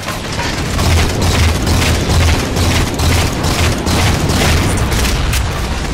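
Fuel rod cannon in Halo 4 Spartan Ops firing explosive shots, heard as a dense run of repeated heavy booms and bursts at a quick, regular pace, loud and close.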